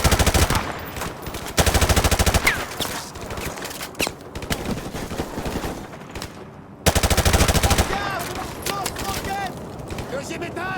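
Rapid automatic gunfire bursts loudly in Call of Duty 4 combat, long rattling volleys broken by brief pauses and scattered single shots, with game voices calling out over the fighting.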